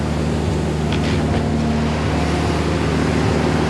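A Jeep Willys engine being revived idles steadily with a dense, constant droning rumble. It sounds close and loud, holds an even level throughout and has no talk over it.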